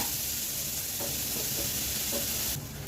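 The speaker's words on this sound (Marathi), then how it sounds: "हे बघा, कांदा मरीव झालेला आहे." Chopped onions sautéing in a hot pan give off a steady, close sizzle with a few soft stirring scrapes, and a brighter burst of hiss at the end.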